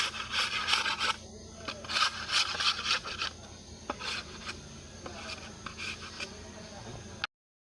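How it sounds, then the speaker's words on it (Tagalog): A blade scrapes along the edges of bamboo to shave off sharp bits, producing irregular bursts of rasping, scratchy strokes at close range, heavier in the first half and lighter later, with no voice. "So tatanggalin yung matalas sa gilid para hindi makahiwa, kasi matalas yun."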